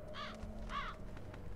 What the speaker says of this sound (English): Like birds.